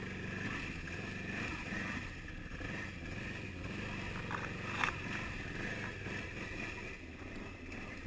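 A 2012 Can-Am Outlander 800XT ATV pushing through mud in four-wheel drive, its engine a fairly faint, steady drone with a brief sharper knock partway through.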